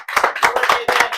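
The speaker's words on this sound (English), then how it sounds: "round of applause for Commish." A short round of clapping from a small live audience at a podcast recording, several pairs of hands in quick uneven bursts, close and fairly loud, with no talking over it.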